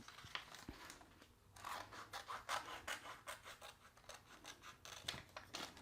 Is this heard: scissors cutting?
yes